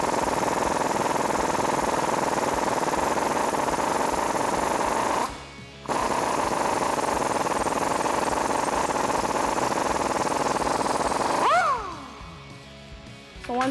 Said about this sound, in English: I have a 21 millimeter deep socket and a half inch impact. I'm going to go ahead and remove that lower bolt.